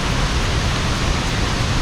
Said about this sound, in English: Only if you can hear me in this background noise of the water.